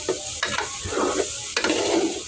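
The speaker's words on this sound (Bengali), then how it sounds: "চালটা ভালো করে নেড়ে চেড়ে ভেজে নেব মাংসের ঝোলের সাথে।" Rice is stir-fried with beef broth, ghee and cumin in a pot for beef bhuna khichuri, with close, loud scraping stirs and a constant sizzle, with sharp spoon strokes recurring through the clip and no talking.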